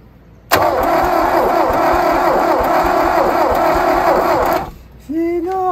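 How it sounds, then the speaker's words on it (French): A Mercedes 206D van, derelict after decades of abandonment, has its starter motor wired directly; it cranks in a loud, steady whirring drone for about four seconds, then stops before a brief second burst. "Je vais essayer un branchement direct pour voir au moins si le démarreur fonctionne."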